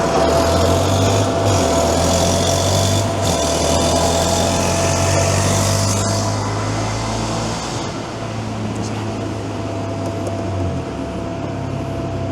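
A motorcycle engine fitted with a Yoshimura exhaust runs loud and steady at high revs on a dyno, then eases off toward a lower, rougher idle near the end.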